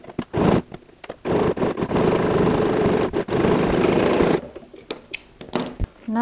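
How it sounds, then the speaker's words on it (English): A sewing machine stitches binding on a zip pouch in several bursts of rapid whirring, the longest run lasting a few seconds, separated by short pauses and small handling clicks. "Now let's go ahead and sew a stitch on the other side."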